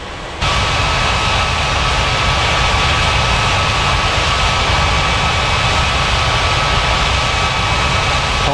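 A virtual Air India airliner takes off at Chennai airport, its jet engines rising abruptly into a loud, steady, broadband roar with a faint whining tone that holds unbroken and close for several seconds.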